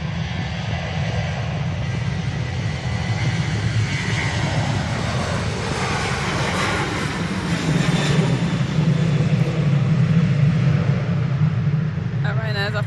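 A fixed-wing airliner departs Manchester Airport bound for Dublin, a continuous engine roar that swells louder toward the end, heard from a distance with a voice talking faintly over it.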